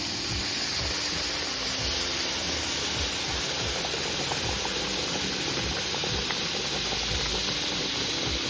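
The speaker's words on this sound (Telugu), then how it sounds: "ఇప్పుడు 1 కప్పు రవ్వకి 3 కప్పుల వేడి నీళ్లు పోసేసుకోవాలి." A steady, loud hiss of steam and bubbling as hot water is poured into roasting sorghum semolina in a hot pan, continuous and close.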